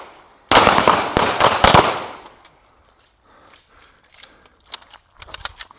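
A rapid burst of about eight sharp gunshots cracks out during a competitive shooting drill, followed by quieter scattered metallic clicks and a few softer pops after a pause; no talking.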